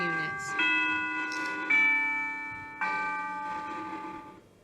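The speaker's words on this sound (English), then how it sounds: "Sorry about that bell." A bell strikes three times in a math classroom during a lesson on graphs. Each stroke rings clearly and slowly fades into the next, with brief speech before it starts.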